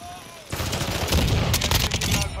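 M16 rifle fire in a video game: a loud, rapid burst of close automatic shots that starts abruptly and keeps going to the end.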